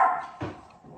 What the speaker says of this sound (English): And Gemma's going to bark because that's what Gemma does.